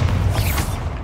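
A Bombarda blasting spell going off in Hogwarts Legacy, a deep low rumbling boom that rolls on briefly and fades, loud and alone.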